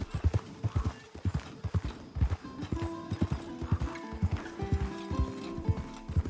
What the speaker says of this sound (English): the meditative act of slowly riding your horse through the landscape